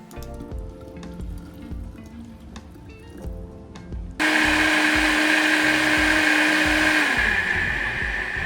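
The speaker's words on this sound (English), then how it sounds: "put those first 3 ingredients in a blender" Quiet kitchen rustling gives way halfway through to a loud, steady whir as a blender runs, mixing homemade insecticidal soap ingredients, including unscented soap and two cups of water. The motor drones close and unbroken until the end.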